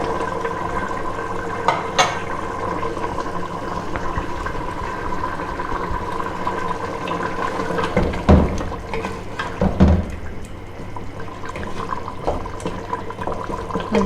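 Potatoes and meat for aloo gosht curry cooking in a pot with leftover liquid, a continuous watery simmer with occasional louder stirring knocks and splashes.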